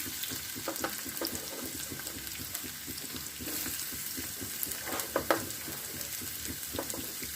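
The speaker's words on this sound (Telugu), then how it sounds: "ఇప్పుడు ఆయిల్ వేడెక్కినాక సన్నగా తరుకు పెట్టిన ఉల్లిపాయ ముక్కల్ని మొత్తం వేసేద్దాం." Thinly sliced onions fry in hot oil, a steady close hiss and crackle with occasional stirring scrapes and a few louder pops.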